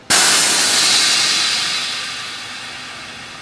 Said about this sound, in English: what everyone wants to see is the air out.